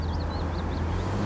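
A classic Mercedes SL engine hums steadily while driving, a continuous low drone with faint wind and road noise and no voices.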